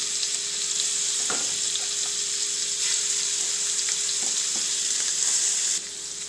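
Shrimp frying in a pan, a steady close sizzle that carries on without a break, with a few faint clicks over it.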